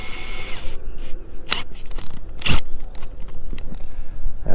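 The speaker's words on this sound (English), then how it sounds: "We're gonna cut pilot holes first before we cut through the joint." A power drill bores pilot holes in a wooden swimbait lure on a riverbank, heard as short, loud whirring bursts separated by brief pauses and handling scrapes.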